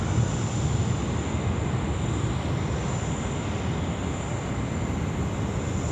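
A Malaysia Airlines freighter jet departing Sydney airport gives a broad, sustained roar of engine noise, loud and steady throughout, with no voices.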